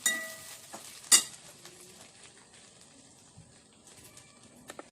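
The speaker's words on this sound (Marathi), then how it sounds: "शेंगदाण्याचा कूट आपण आता थोडासा असा परतवून घेऊया।" Coarsely ground peanut powder being sautéed in a pan for sabudana fasting khichdi: faint, soft scraping and stirring, with a sharp clink of a utensil against the pan early on and a few lighter taps near the end.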